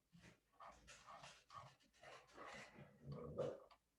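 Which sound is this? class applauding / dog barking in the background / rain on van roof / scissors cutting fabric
dog barking in the background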